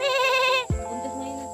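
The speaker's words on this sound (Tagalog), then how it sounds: "Kambing po, kambing." A pregnant goat at a farm in Batangas gives a single loud, wavering bleat lasting over half a second, followed by a low thump and quieter background noise.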